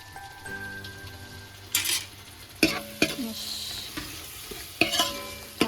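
Chicken biryani masala frying in a pot, a quiet steady sizzle broken by several sharp clinks and scrapes of a spoon stirring against the metal.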